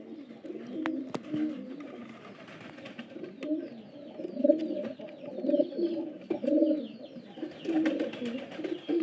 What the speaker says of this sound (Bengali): এগুলো ডাকের কবুতর